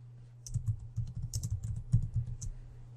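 Someone types on a computer keyboard: quick, light keystrokes clicking in an irregular rhythm, close and fairly quiet over a low steady hum, with no talking.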